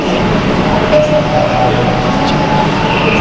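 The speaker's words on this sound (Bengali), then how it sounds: "দেখো এই মেট্রোটা সেক্টর 5-এর দিকে চলে যাচ্ছে" A Kolkata Metro Green Line train pulls out of Phoolbagan station toward Sector V, filling the platform with a continuous loud rumble and rail hum, with faint squeals riding on top.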